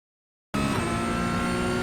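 A Porsche GT3 Cup 992.1 race car in iRacing at Barber Motorsports Park bursts in after half a second of silence, its engine holding a loud, steady full-throttle drone with no talk over it.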